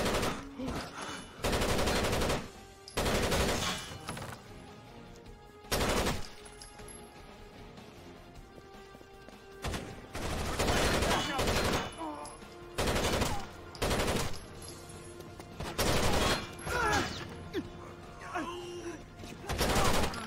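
Repeated bursts of automatic gunfire in Rainbow Six Vegas 2, loud volleys separated by quieter gaps across the whole stretch, with faint game voices underneath.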